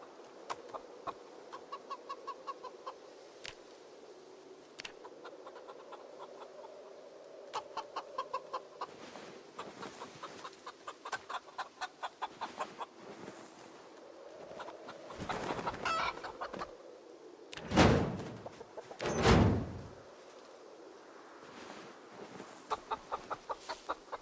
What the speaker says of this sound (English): Got lots of chickens.